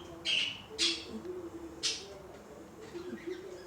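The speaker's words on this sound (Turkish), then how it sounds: "Benim kuşum bıdık da ötüyor öyle." A small bird gives a few sharp, high chirps indoors, spaced out over a low steady background hum.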